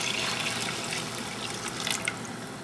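Roughly a cup of water poured into French onion soup with beef broth, a continuous close splashing, trickling pour with a few brighter drips near the end, no voices.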